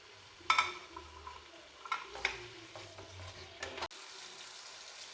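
Vegetables for Bengali shukto fry in oil as they are stirred, giving a close, crackling sizzle with a few louder scrapes before the sound cuts off abruptly.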